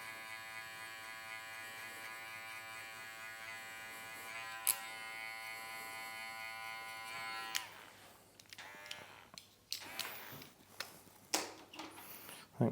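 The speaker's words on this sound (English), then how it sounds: "I'm just changing the angle of the clipper, just trying to get all those darker ones." An electric hair clipper buzzes steadily while cutting hair during a fade, a close, even drone that breaks up in the last seconds into short clicks and handling knocks.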